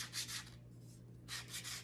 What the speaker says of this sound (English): I'm going to take 120 grit sandpaper and I'm going to start by just removing